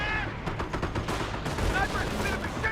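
MG42 machine gun and other gunfire in the World War II strategy game Company of Heroes: dense, continuous bursts of rapid shots and distant booms, with a commentator talking over the battle.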